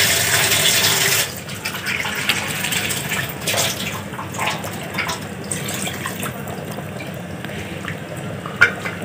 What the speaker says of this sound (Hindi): इसमें पानी दिया जाएगा।